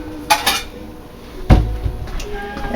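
A plate and a spatula are handled in a kitchen, giving a few sharp clinks and one heavier knock, then quieter rattling.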